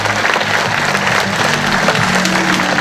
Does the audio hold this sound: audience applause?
yes